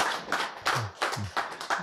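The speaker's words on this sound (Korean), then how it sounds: "이제 한번 박수 한번 쳐봅시다" A group of people claps hands in a lecture or church setting, giving several sharp, irregular bursts of applause at close range with low thumps between them.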